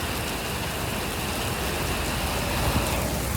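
A heavy Caribbean rainstorm pours with large drops, a dense, loud, steady wash of noise that keeps going without a break and carries no voices.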